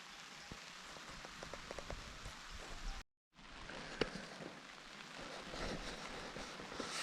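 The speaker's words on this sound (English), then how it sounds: "Let the rain fall now." Rain patters on a camping tarp beside a lake, close, steady drops tapping the fabric, broken once by a brief cut to silence before the rainfall resumes.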